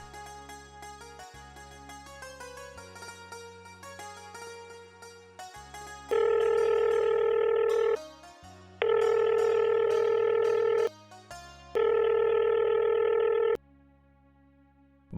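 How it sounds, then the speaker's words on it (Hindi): A phone line rings repeatedly in long, loud electronic bursts with pauses between them, after a few dialing tones, and nobody answers. "फोन भी नहीं उठा रहा।"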